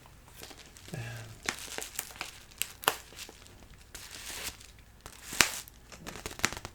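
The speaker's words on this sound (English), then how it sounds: "get that shipping label there. And one piece of tape." Packing tape is pulled off a roll and pressed onto a shipping package in a quiet room, with a short screech followed by crinkly rustles and small taps spread across several seconds.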